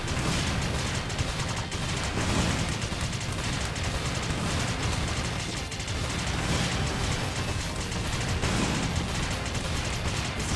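Shooting in the video game Freedom Planet, played as Carol: a dense, loud, unbroken barrage of rapid gunfire-like blasts and crashes that runs the whole time, with no voice.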